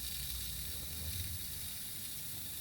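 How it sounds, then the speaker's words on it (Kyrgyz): Water hisses steadily from a radiator air-bleed valve during home heating radiator installation, a continuous close, fairly faint rushing spray with low rumble and no pauses. "Суу чыгып атат."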